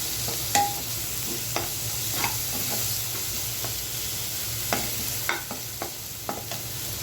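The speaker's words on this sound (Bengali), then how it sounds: "মশলাটা সুন্দর করে তেলের ভিতরে ভেজে নিচ্ছি।" Spice paste with chilli powder fries in oil for a rohu fish and okra curry, a continuous soft sizzle with a spoon scraping and stirring the pan at irregular moments, close by and unaccompanied by speech.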